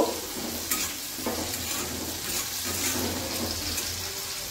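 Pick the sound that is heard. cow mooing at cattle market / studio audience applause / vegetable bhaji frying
vegetable bhaji frying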